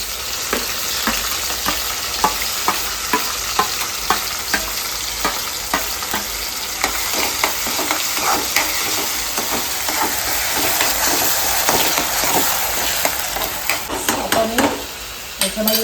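Onion and spice paste frying in hot oil, a dense crackling sizzle with frequent stirring scrapes and clicks throughout, close and loud.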